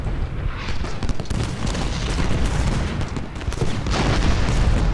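Heavy booming cannon fire and explosions roll continuously in the video game Ultimate General: Gettysburg, loud and dense, with rapid overlapping blasts of a large battle.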